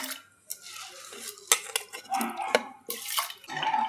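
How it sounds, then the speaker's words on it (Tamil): Water pours and splashes into a metal pressure cooker, about six tumblers with pearl millet, with clinks and clatter of cookware in between. "ஒரு குக்கர் வச்சு இதில் ஒரு 6 டம்ளர் தண்ணி சேர்த்துக்கலாம்."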